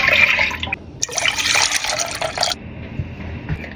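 Oat milk poured from a carton into a pot over medium-low heat, a splashing, gurgling liquid stream that rises loud in the middle and tapers off, with no talking.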